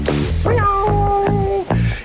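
Cat-like meows ring out over a novelty song, several drawn-out wails in a row riding above a steady musical backing.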